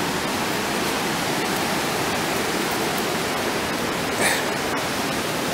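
A backcountry river rushes in a steady, dense roar that fills the whole scene, loud and close, with no pauses.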